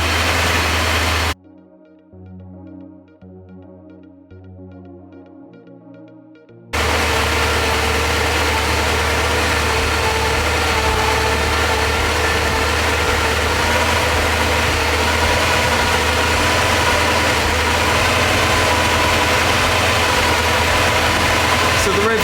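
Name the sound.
Porsche 928 engine idling while warming up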